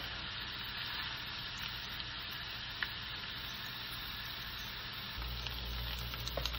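Chicken sisig being stirred in a hot pan gives a steady, close, dense sizzle with a low rumble underneath. The sizzle grows fuller toward the end, and no one speaks.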